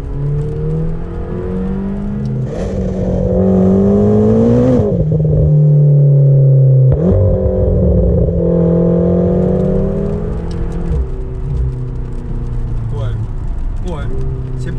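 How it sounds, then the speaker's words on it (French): A McLaren GT's twin-turbo V8 revving, heard from inside with rising and falling engine tones through several pulls, loud and close, with people talking over it at times. "Le bruit qu'on connaît, classique McLaren, ils l'ont changé un petit peu."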